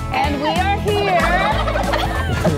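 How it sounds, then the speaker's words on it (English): Rare breed turkeys on a small Ohio farm, about 75 birds, gobbling repeatedly in a loud, dense chorus that continues through the clip with no talk over it. "we're talking real turkeys here in Ohio"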